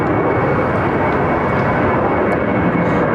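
An airliner going around over Heathrow, its engines a loud, steady, broadband roar that fills the whole stretch without letting up.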